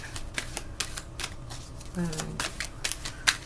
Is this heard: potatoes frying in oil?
no